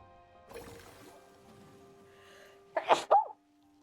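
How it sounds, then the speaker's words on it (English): A person sneezes sharply in two quick bursts near the microphone after a few seconds of quiet breathing and faint background hum. "I sneezed."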